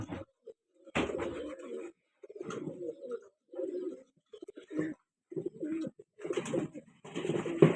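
Pigeons or doves cooing in a bird enclosure, a series of soft, low, close coos in irregular bursts separated by short silences, with no voices.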